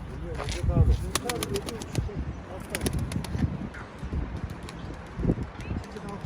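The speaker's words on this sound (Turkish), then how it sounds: "Bak çok güzel bozkirli yavrular falan aldık." Young bozkırlı pigeons cooing softly near at hand, low repeated coos mixed with some rustling, clicks and wing movement, with people talking over much of it.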